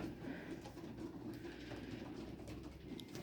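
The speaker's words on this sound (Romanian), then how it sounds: "Aceștia sunt porumbei de matcă." Breeding pigeons cooing softly in a loft, a faint low murmur of continuous coos throughout with some background noise.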